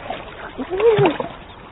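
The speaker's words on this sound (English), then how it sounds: "she drops the carcass under the water, where thieves can't see it or smell it" Splash as an animal drops a carcass into water in the African wild, a soft sloshing splash at mid distance lasting about a second, partly under a narrator's voice.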